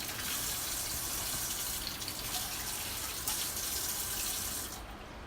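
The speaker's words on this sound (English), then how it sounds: "want to wash all the dust and debris away, cleaning up the piece for the last time" Steady rush of running water pouring over a piece of dead desert cholla wood being rinsed of dust, a constant hiss that thins out near the end.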